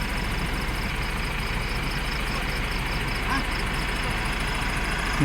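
A black-and-red wheel loader's diesel engine idles steadily and close by on a rural roadside in Laos, a continuous rumbling drone with a faint mechanical knock and no pauses.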